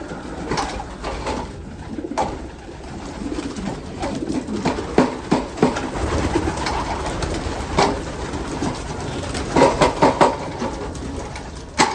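Pigeons in a loft coo softly and repeatedly, with light scuffles and flutters nearby, a continuous close chorus with no voices.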